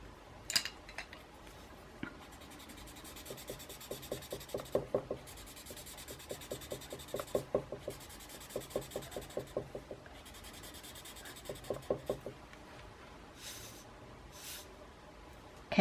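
Pencil shading across paper in repeated bursts of quick back-and-forth scratchy strokes, close and fairly quiet, with short pauses between passes and no talk.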